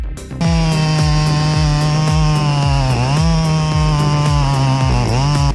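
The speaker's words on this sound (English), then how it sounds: "dangling at the top of a tree with a chainsaw in hand" A chainsaw runs loud and close high in a tree, its high buzzing whine dipping briefly twice as the blade bites into branches.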